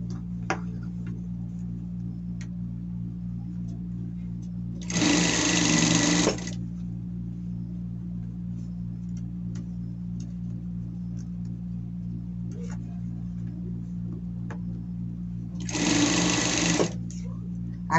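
Sewing machine stitching a denim shirt, running in two short bursts of about a second and a half each, well apart, over a steady low hum in a quiet workroom.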